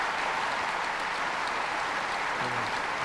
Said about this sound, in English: A well-deserved round of applause for these two players.